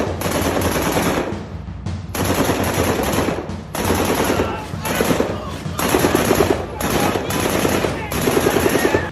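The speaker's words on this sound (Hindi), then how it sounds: "जी हाँ सर, LMG फायर है।" Loud, sustained bursts of light machine gun fire, several long strings of rapid shots separated by brief pauses.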